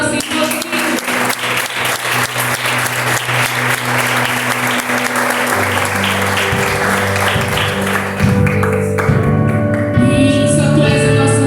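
Church congregation applauding loudly and continuously during an evening communion service, dense clapping carrying on while organ or keyboard chords enter and swell underneath toward the end.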